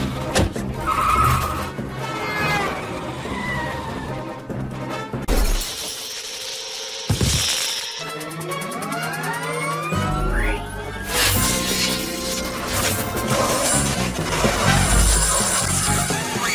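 Animated car chase with windshields smashing: loud engines, skidding tires and repeated glass shatters over music, with sirens wailing through the busy, continuous action.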